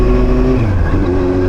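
A 2001 second-generation Yamaha R1 motorcycle revs loudly and up close, its engine tone climbing and dipping across the short burst.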